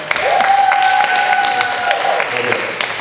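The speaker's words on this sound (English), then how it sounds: "give them a round of applause" Audience applause from the women for the men standing up at a coaching session, sustained clapping beneath a long sustained tone and a cheering voice, fairly loud and close throughout.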